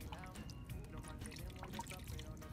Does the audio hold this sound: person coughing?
no